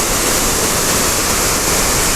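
Steady broadband roar of rushing water at Tortum waterfall in Erzurum, heard close up as the wide cascade pours down, continuous and loud with no pauses or voices.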